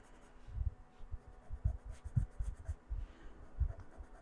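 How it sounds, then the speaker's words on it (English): A white pencil scratches across a watercolor Christmas tree card in short, repeated dry strokes, close and quiet, with an irregular rhythm and no talking. "Now with the white pencil, I'm just going to add some little bits of"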